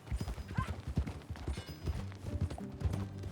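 Hooves of a horse being ridden in Red Dead Redemption 2 clip-clop in a quick steady rhythm, close and clear over a low background rumble.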